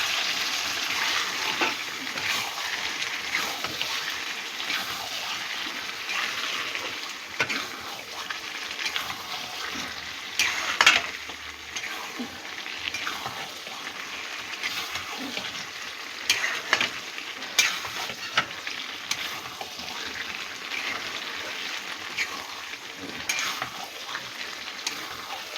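Fish roe curry cooked with oil is stirred in a pan, with steady soft sizzling and frequent scraping and clinking of the spoon against the pan over about half a minute, with no talking.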